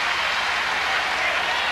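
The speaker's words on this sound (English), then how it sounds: "the crowd loves that" Dense applause and cheering fill an arena at a college wrestling match, a steady, loud wash of clapping from a large crowd with no break.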